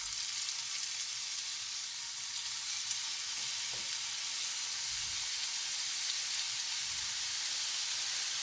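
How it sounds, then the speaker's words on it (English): Burgers frying in butter in a pan give a steady, close sizzle with soft crackle throughout, broken by a few brief low thumps as the patties are moved, with no talking. "we're going to cook our burgers"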